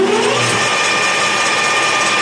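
A LeBlond Regal lathe running on 208-volt three-phase power spins down after being stopped, giving a steady, loud mechanical whir with a faint falling tone. The motor noise fills the whole clip.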